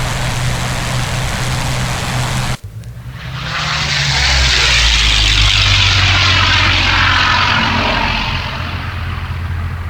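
A P-40M fighter's piston engine roars to full takeoff power in the IL-2 flight sim: a brief cut, then a loud, steady propeller drone with broad whooshing wind noise that swells and holds, no voices.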